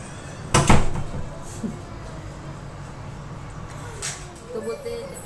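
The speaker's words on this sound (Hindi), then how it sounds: "दरवाजा बंद कर सूरज, वहाँ का वो आवाज आ रही है ना, दरवाजा बंद करो।" A door at home pushed shut, one sharp loud thud near the start, followed by quieter room noise, a fainter knock later and soft background voices.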